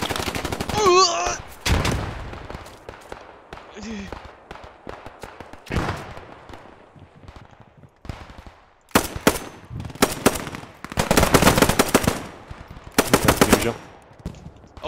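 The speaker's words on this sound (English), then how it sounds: "MG42s are terrifying." MG42 machine gun fire in Post Scriptum, in a 101st Airborne battle at Carentan: loud, ripping bursts and scattered gunshots, some near and some farther off, with brief quiet gaps and a voice now and then.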